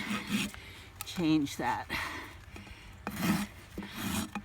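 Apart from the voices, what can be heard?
rasp filing and burnishing a horse's hoof heel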